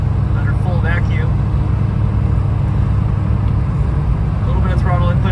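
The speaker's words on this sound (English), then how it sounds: "I think I've got some driveline noise that's starting to get worse" An old 1970s Volvo 144 turbo rolls downhill off the throttle in the Rockies, giving a steady low driveline drone and road rumble from inside the cabin, with brief faint squeaks over it and no talking.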